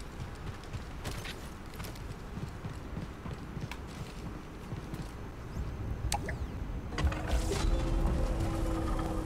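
Elevator machinery in Star Wars Jedi Survivor clanks, ratchets and grinds in a steady mechanical rhythm. Sharp metallic knocks punctuate it, and a louder grinding hum builds near the end.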